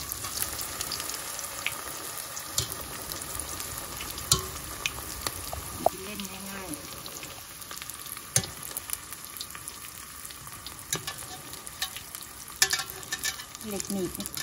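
Wontons deep-fry in very hot oil in a narrow pot, a continuous close crackling sizzle scattered with sharp pops and occasional utensil clicks.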